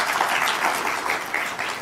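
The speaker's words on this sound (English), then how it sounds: "This is an audience that claps when they're not prompted to" Audience applause at a JA Upstate festival event, a short burst of dense, steady clapping from a crowd, fairly close and even in loudness without a voice over it.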